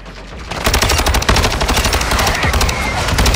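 An HCR56 light machine gun firing in Call of Duty MW2, a loud sustained burst of rapid automatic gunfire with sharp, evenly spaced shots close up, running almost unbroken for a few seconds.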